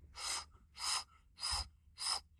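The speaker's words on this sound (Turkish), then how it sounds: "derin nefes alın" Four deep diaphragmatic breaths drawn in before a dive, each a loud, close rushing inhale lasting about a third of a second, evenly spaced with short pauses between them.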